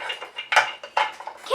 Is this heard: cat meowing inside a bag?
no